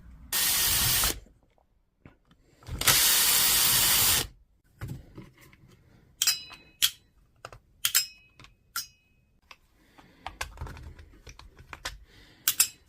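A broken DeWalt brushless power tool has its casing pried open: two loud, sustained hissing bursts, then a run of sharp plastic clicks, snaps and small rattles, close by with no talking.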